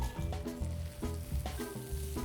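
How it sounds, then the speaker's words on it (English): Shallots frying in a hot pan give a steady close sizzle, with a few soft stirring clatters and bumps under it. No one speaks. "That's the sizzle you wanna hear."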